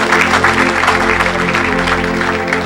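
A church congregation at a French-language evangelistic healing service applauds and acclaims the Lord, a dense wash of clapping and crowd noise filling the short moment without a clear lead voice.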